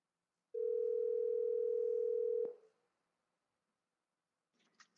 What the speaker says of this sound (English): I'm going to tap on the phone app, and I'm going to call Deidre